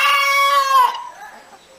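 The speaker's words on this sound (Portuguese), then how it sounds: "É a galinha." Chicken calling loudly and close by, a single drawn-out, crowing-like cackle that fades into quieter trailing clucks, with no one talking.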